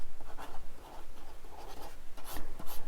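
A stylus scratches across the screen of a reMarkable 2 e-ink tablet in quick, close strokes, a dry papery scribble with short pauses between words.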